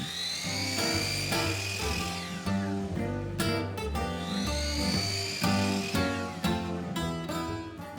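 Power saw cutting miters on wooden rails for a grilling prep station, two rising whining spin-ups each followed by a loud, harmonic-rich cutting buzz, with tonal ringing carrying between the cuts.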